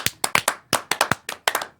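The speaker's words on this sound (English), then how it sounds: "No, don't stop clapping." Sharp, uneven claps ring out in quick bursts with small gaps, sounding like a few people applauding nearby rather than a large crowd.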